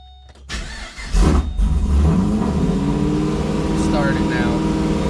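A boosted LSA-swapped Pontiac G8 GT with engine modifications cranks briefly, catches and fires, then settles into a loud, rumbling, lumpy idle close to the microphone.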